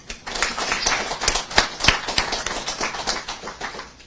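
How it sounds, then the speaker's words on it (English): Audience in a room clapping for selected scholarship candidates at a scholarship ceremony, a modest scattering of distinct hand claps at a fairly steady pace, close and fairly loud, with no talk over it. "let's take a moment to recognize and give a round of applause to the 20 selected candidates in the room here today"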